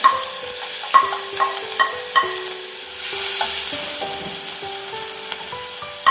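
Sliced onion added to hot coconut oil for an okra masala, a steady close sizzle with a spoon stirring and scraping against the pan, and no talking.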